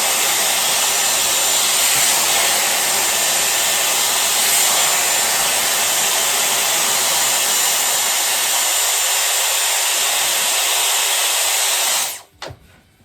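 A Dyson Airwrap with its round brush attachment drying hair gives a loud, steady close-up blowing roar with hiss that runs unbroken for about twelve seconds, then cuts off abruptly near the end.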